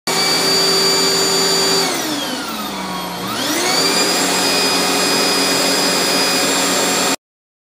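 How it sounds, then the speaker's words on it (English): A loud vacuum cleaner powered through a 3000 watt, 12 volt DC to 110 volt AC power inverter from battery power drones steadily, its whine dipping in pitch for a moment and then climbing back up before it cuts off abruptly. "As you can see, the vacuum will remain on at all times."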